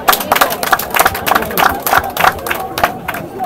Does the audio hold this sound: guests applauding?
yes